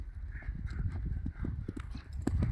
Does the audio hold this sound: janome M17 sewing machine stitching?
no